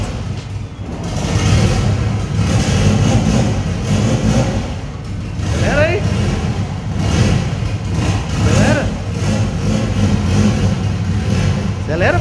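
A turbocharged Chevrolet Chevette with an AP engine cranks and then revs repeatedly, a loud, steady engine drone rising in several surges, close by, with people talking over it.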